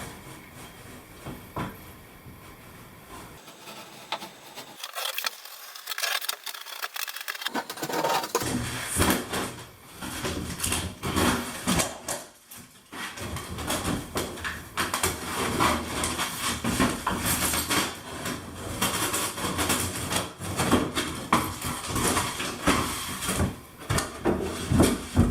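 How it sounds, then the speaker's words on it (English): Utility knife with a sharp blade slicing through a Hydro Ban foam board: scraping, rasping cutting strokes up close, steady and continuous, with a few sharper knocks and a brief quiet gap early on. "Cut it with the utility knife"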